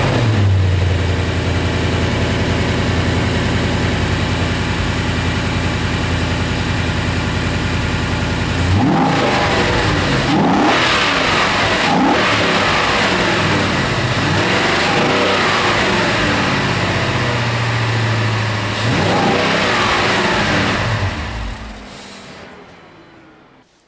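Ford Mustang GT V8 with a Roush enclosed cold air intake, heard loud and close: a steady idle that builds into several sharp revs with deep, throaty rises and falls, then settles back to idle before cutting off.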